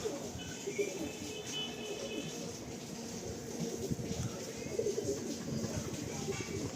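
Andhra pigeons cooing softly in a busy loft, low continuous murmuring with faint chirps under a steady background hum.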